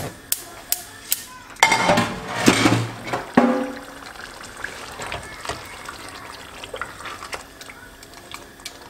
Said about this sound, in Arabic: نضيف لها القليل فقط من الماء